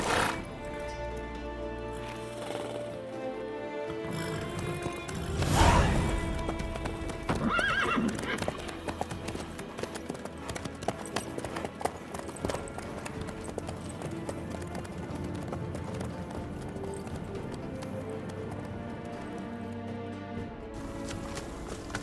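A horse in The Witcher 3 game, steady clip-clop of hooves walking with a loud neigh partway through, layered under background music.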